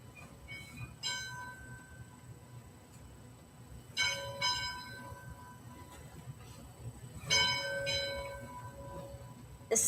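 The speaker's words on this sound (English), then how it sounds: "That moment, the church bells began to ring." Church bells ringing out in three separate resonant strikes spaced a few seconds apart, each leaving a long humming tone, over a low background rumble.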